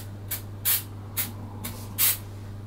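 An aerosol can of artificial snow sprays onto candles in a New Year table arrangement, five short hissing bursts, the second and last longer and louder, over a steady low hum.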